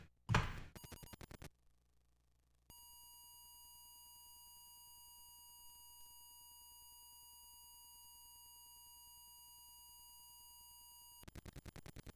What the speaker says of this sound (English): you're going to hear a very long beep as it comes across with the FujiNet